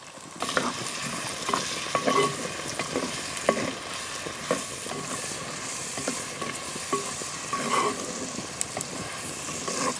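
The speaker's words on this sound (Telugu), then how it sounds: "నూనె అయితే కాగింది ఇప్పుడు ఇందులో ఉల్లిపాయ ముక్కలు వేసుకుంటున్నాం అలాగే నిలువుగా కట్ చేసుకున్న పచ్చిమిరకాయ ముక్కలు కాడే వేసుకుంటున్నాం" Sliced onions and slit green chillies frying in hot oil for an egg and taro root curry, a loud continuous sizzle broken by repeated scraping stirs of a spoon against the pan.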